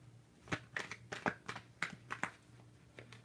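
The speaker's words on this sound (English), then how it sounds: "Do a couple more shuffles." Tarot cards are shuffled by hand in a quick series of soft riffling slaps and rustles, about eight close, distinct bursts over a low steady hum.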